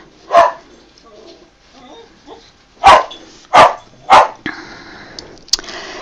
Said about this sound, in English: Oh, sorry about the bark.